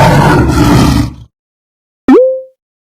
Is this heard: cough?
no